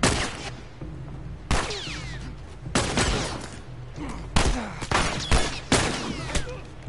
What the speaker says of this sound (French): Tu sais qu'il me tire dessus là.